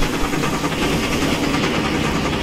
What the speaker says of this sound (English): Steam exhaust, pretty typical.